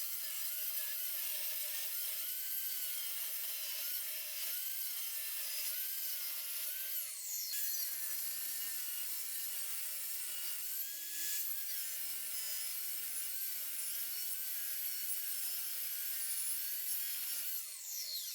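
A table saw cuts wooden legs for a garden table to length against a stop block, giving a steady, close, continuous whine across several passes with a slight rise and drop in pitch as each cut starts and ends.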